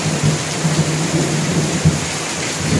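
Thunder rumbles through a heavy rainstorm at night, a dense roar of steady rain with low rolling booms underneath, loud and close, without speech.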